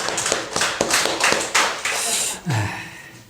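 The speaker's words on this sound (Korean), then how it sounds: "박수를 치려면 확실하게 치셔야 됩니다." Church congregation clapping during a Sunday service, a burst of sharp claps spread over a couple of seconds before fading, with a brief voice near the end.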